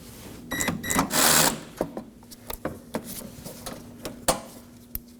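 A ratchet backs out a 7mm bolt on the bumper corner of a 2018-2024 Chevrolet Equinox: a brief louder whirring burst, then sparse, sharp clicks at irregular intervals, close by.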